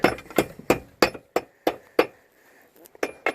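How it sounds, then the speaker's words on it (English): Hammer striking a concrete pan roof tile during solar bracket installation, about ten sharp, ringing blows at a steady rhythm, close up, with a short pause before the final lighter taps. "so get your hammer similar to that, or a scutch hammer"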